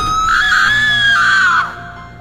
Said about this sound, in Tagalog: Tapos may sumigaw.